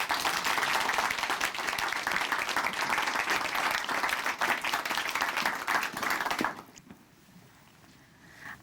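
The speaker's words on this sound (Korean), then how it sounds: "박수로 모시겠습니다." A church congregation claps in sustained, even applause for several seconds, then it quickly fades out, leaving a near-silent room.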